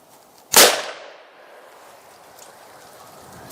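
A single 350 Legend Copper Impact round fired from a Ruger Ranch rifle with a 16-inch barrel at an outdoor range, one sharp loud crack with a decaying echo tail, then quiet ambient noise.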